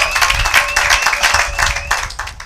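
A church congregation applauds together in a steady, dense wash of clapping that fills the space, with a faint sustained tone running underneath and no speech over it.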